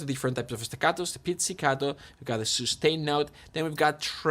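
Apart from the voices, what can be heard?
No distinct noise like a dog, phone or traffic.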